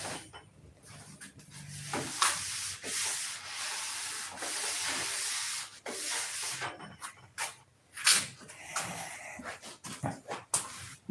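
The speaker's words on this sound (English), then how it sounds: "You see how quick I sanded that out?" Sanding a wing by hand, repeated bursts of rough rubbing strokes in an uneven rhythm with brief pauses between, close and fairly loud, a dog whimpering faintly in the background.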